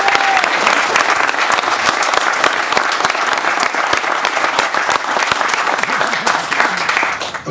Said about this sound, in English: So a round of applause, guys